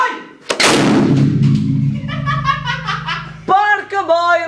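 A 2,270-litre hydrogen charge set off with a TNT-style detonator gives one sudden, loud, booming blast whose rumble rolls on for several seconds, followed by people laughing and talking.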